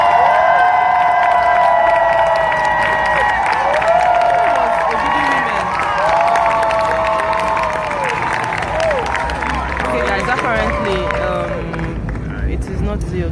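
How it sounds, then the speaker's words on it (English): A crowd at a fashion weekend masterclass in Lagos cheers and claps as a designer is welcomed, loud sustained applause mixed with shouting and whooping voices and a sung or called-out melody over the top throughout. "warm round of applause for Huishan Zhang"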